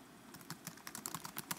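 Keys on a computer keyboard are tapped in quick, irregular clicks, close and fairly quiet, with a short pause before the typing picks up.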